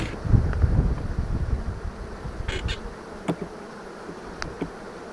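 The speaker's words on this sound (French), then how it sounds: "ce petit temps de contemplation des abeilles rentrant dans leur trou de vol" Honeybees buzz around a hive entrance, loud and close at first with wind rumble, then thinning to scattered passing buzzes as they fly in.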